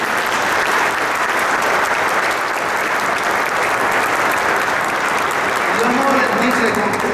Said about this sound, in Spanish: Un aplauso para el equipo humano.